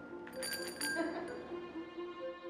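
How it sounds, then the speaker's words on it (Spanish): A small bell rings during a magic trick, giving a bright cluster of metallic strikes and then a shimmering ring that decays slowly while faint background murmur continues. "¿Quién tocó la campana?"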